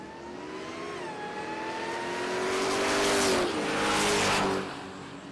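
A 1991 Camaro with a side-mounted supercharger launches down a drag strip at Texas Motorplex, engine roaring loud and rising in pitch through a gear change, tires briefly squealing, then fading slightly as it pulls away.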